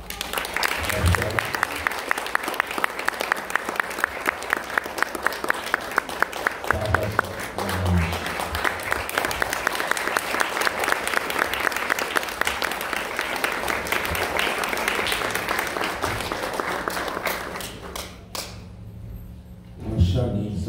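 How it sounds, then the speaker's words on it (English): Sustained audience applause at a speech event introducing a young Carnatic music performer, steady dense clapping for about seventeen seconds before fading out, with occasional voices underneath. "Please give one round of applause to"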